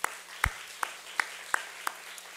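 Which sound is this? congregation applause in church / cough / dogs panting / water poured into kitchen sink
congregation applause in church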